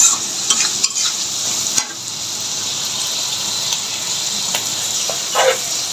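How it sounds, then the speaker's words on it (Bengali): Chapila fish frying with turmeric and dry chili powder being mixed in, a loud continuous sizzle with repeated scraping and clinking strokes of a stirring utensil against the pan, no voices. "আর একটু করে শুকনা লঙ্কা গুঁড়ো ভালো করে মিশিয়ে নিচ্ছি"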